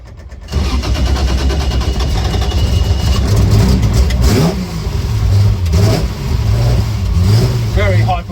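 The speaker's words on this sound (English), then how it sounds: "Very high performance TR5 straight six engine in it on triple Webers." A Triumph TR5 historic race car with a high-performance straight-six engine on triple Weber carburettors fires up and idles loudly, then blips through sharp revs with a rough, lumpy note. Someone talks partway through.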